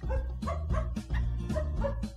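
Dog barking in repeated bow-wow bursts, about five or six sharp barks with short whimpering yips, fairly close and loud, with no talking.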